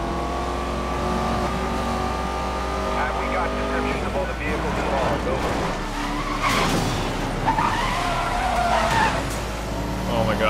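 A Ford GT drifts in the racing game Need for Speed: Most Wanted (2012), its tires skidding and squealing steadily over a constant engine roar for the whole stretch, loud and close.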